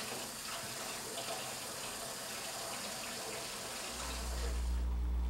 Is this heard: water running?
yes